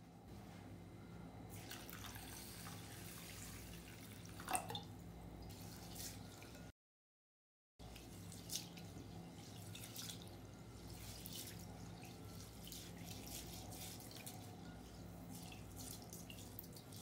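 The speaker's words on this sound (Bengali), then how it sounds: "এখন গোবিন্দভোগ চাল ভালো করে ধুয়ে জল ঝরিয়ে নেব" Gobindobhog rice being washed in water and drained in a kitchen sink, with a steady low trickle of running water, scattered drips and small splashes, one brief pause midway, quiet and without speech.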